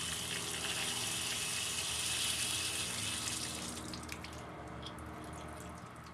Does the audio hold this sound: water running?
yes